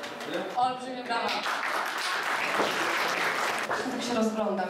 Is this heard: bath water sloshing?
no